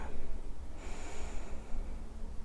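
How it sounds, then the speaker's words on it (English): One slow, deep breath drawn during a relaxing yoga session, a soft airy inhale and exhale, close to the microphone and alone. "Take a good deep breath here."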